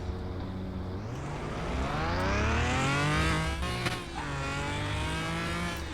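A 1997 McLaren F1 GTR Longtail race car engine in Car Mechanic Simulator on a speed track, revving hard and climbing steadily in pitch, briefly dipping at a gear change, then climbing again, loud and alone.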